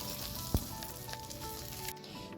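Eggs frying in a wok for an egg curry, a steady close sizzle with a brief louder crackle near the start, continuing evenly with no talk.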